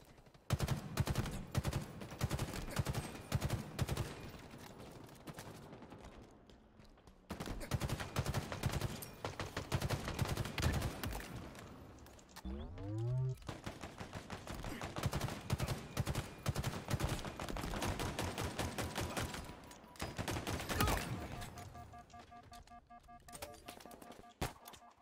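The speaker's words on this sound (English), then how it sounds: "I love how just metallic the guns sound." Rapid, metallic-sounding automatic gunfire from video game guns rattles in long sustained bursts, broken by a couple of brief pauses and a short mechanical whine partway through.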